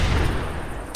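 Gunshots at ducks in theHunter hunting game: a loud, sharp blast arrives abruptly at the end after a second of rumbling outdoor ambience.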